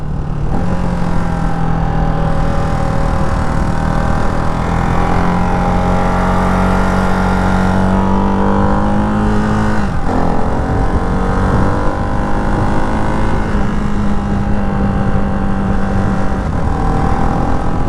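A Ducati Hypermotard 698 RVE single-cylinder motorcycle revs through gears on the road, engine pitch climbing and dropping with quick, smooth quick-shifter changes, loud and close with steady wind noise throughout.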